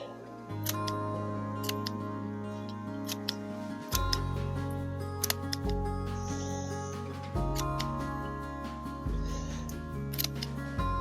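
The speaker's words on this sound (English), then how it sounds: "I'm literally just following the bloom stalk as far down as it goes and then cutting that out" Pruning shears snip through the bloom stalks of garden perennials and annuals in a summer garden. The cuts come as a series of crisp, close clicks spread over the stretch, with a steady hum of background noise underneath.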